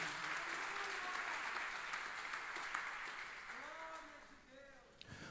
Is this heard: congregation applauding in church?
yes